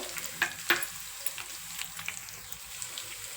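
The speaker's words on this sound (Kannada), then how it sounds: "ಸಣ್ಣದಾಗಿ ಹಚ್ಚಿಟ್ಕೊಂಡಿರೋ ಈರುಳ್ಳಿ ಹಾಕ್ಬಿಟ್ಟು ಒಂದು ಸ್ವಲ್ಪ ಈರುಳ್ಳಿ ಫ್ರೈ ಮಾಡ್ಕೋಬೇಕಾಗತ್ತೆ" Finely chopped onions and curry leaves frying in a pan for an egg curry give a steady close sizzle, with a couple of sharp spatter pops near the start and lighter crackles through the rest.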